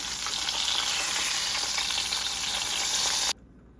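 Black cumin and onion paste sizzle steadily in leftover fish-frying oil, a bright continuous crackle that cuts off abruptly near the end.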